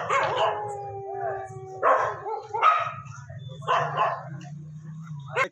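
Stray dogs in a town street bark and howl in several loud bursts, close and overlapping, with no talk over them.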